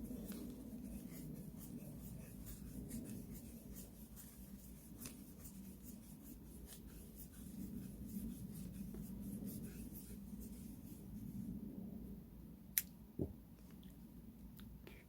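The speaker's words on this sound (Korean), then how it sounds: "카드에다가 아까 초록색도 30번을 감았습니다. 그럼 똑같이 30번을 감아주세요." Yarn is wound thirty times around a card for a crochet round net bag, a soft continuous rubbing and brushing that runs steadily and close, with a couple of brief sharp ticks near the end and no talking.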